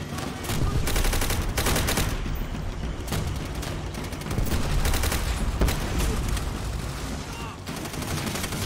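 Rapid gunfire from the Call of Duty: World at War campaign mission Semper Fi, dense overlapping bursts and booms filling the whole stretch at steady loudness, with faint speech underneath.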